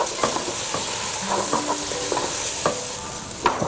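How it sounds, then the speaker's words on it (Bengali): Ginger and garlic paste sizzle in a hot pan under a constant frying hiss, while a utensil stirs and scrapes against the metal in repeated light knocks. "একটু নাড়ো।"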